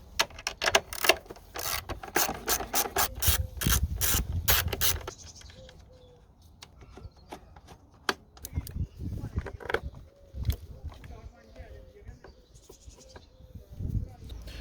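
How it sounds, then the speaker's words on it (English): A 10mm socket on a ratchet loosens the nuts on a car battery, with a fast burst of close clicking at the start, then quieter scattered handling noises. "So to take this battery out we need a 10mm socket to remove these two nuts."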